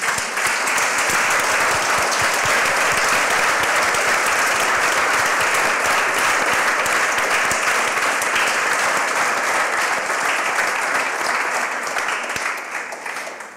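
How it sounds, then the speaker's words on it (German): An audience at an artist talk keeps up loud, steady applause for about thirteen seconds with no break. It fades slightly only at the very end, and no speech can be heard over it. "Deswegen schon mal einen Applaus für Christiane Jatahi."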